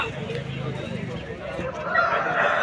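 Wet roosters at a busy chicken market in Vijayawada during heavy rain, with crowing and clucking rising over steady rain noise and market bustle, while people talk nearby throughout.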